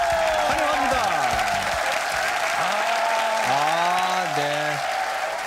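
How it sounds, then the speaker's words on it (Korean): A television studio audience of navy special warfare reservists and active-duty members applauds steadily and loudly throughout, with a host's voice speaking over the clapping. "박수 보내주세요."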